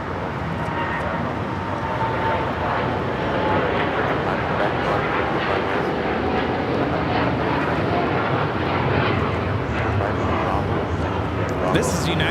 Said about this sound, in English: This is United Airlines 801 taking off to Hong Kong on the 787-9 Dreamliner